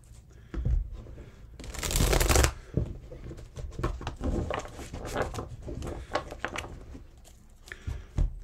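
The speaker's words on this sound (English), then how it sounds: "Get one more shuffle." A deck of tarot cards is shuffled up close in one loud, dense riffle burst, then softer card-handling taps and rustles continue without talk.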